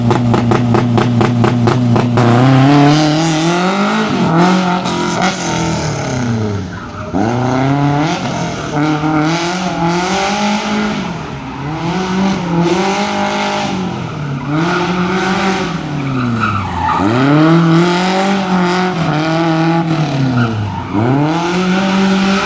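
A Hijet pickup races through a slalom course, its engine revving hard in repeated rising and falling sweeps as it accelerates between turns, with loud tire squeals and skids close by.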